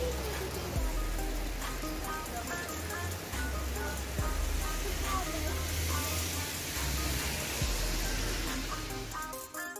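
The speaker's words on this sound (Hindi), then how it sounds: "हम पहुंच चुके हैं धर्मशाला के पोस्ट ऑफिस और यहाँ हम बारिश रुकने का वेट कर रहे हैं" Heavy rain pours steadily at the post office in Dharamshala, a dense, constant hiss of drops striking surfaces with a low rumble beneath, loud and unbroken throughout.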